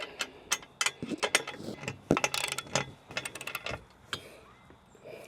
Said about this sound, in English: The nuts and bolts for this are 9/16. A little bit larger, so we use different wrench for this.